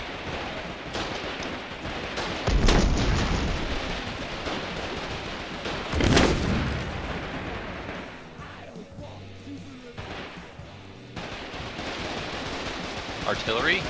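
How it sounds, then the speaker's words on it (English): Heavy artillery shell fired in the war game Foxhole, two loud booming blasts a few seconds apart over continuous battlefield noise, with voices talking throughout. "I just sent an artillery shell right at the fucking gate"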